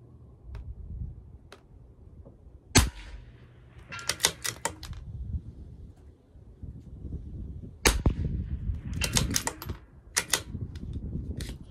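Shots from a CZ 457 LRP rimfire rifle at a rifle match, sharp cracks heard singly and in quick bursts of several, fairly close and loud over quiet outdoor background, no talking.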